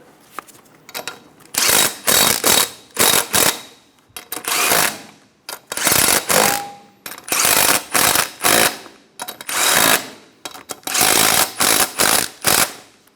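A ratchet wrench snugs down the six lug nuts on a 2000-2006 Toyota Tundra front wheel, with rapid clicking bursts repeated about a dozen times with short pauses between, close and loud.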